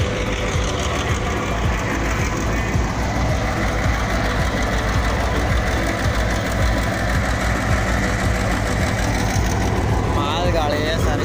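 A locomotive engine runs steadily at Hyderabad railway station in Sindh, a loud continuous rumbling drone with throbbing vibration that holds unbroken throughout.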